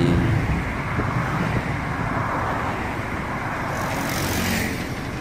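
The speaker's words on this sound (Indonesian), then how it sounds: "Oh, dia macet nih guys ya." Dense road traffic rumbles through a traffic jam in Malaysia, a steady close wash of engines and tyre noise with no gaps, loud and continuous.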